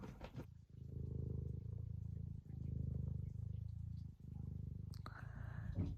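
A cat purrs right up close in long rhythmic rumbling cycles with brief pauses between breaths, ending with a short shuffling noise.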